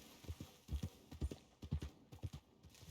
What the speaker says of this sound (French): Ah, mon cheval, regarde. Regarde mon cheval.